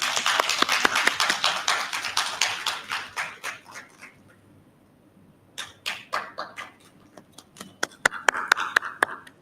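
Scattered applause from a small conference audience, individual claps clearly separated, fading to near silence midway before a second, sparser burst of claps resumes.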